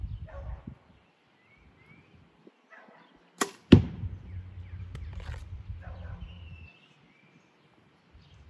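An arrow strikes a Bow-nafide archery target with a single sharp, close thwack midway through, followed by a low rumbling decay, in an otherwise quiet outdoor setting.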